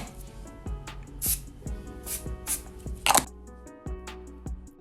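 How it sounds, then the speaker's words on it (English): Several short hissing spritzes from a smoothing spray bottle onto hair, close by, mixed with light handling clicks and taps between them. "1 more little spray of that Good Behavior smoothing spray"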